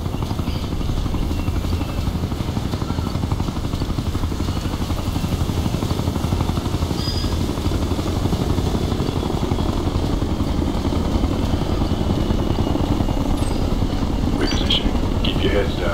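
A helicopter in Ghost Recon: Future Soldier drones with a steady rotor rumble that stays loud and constant throughout, with radio voices talking over it.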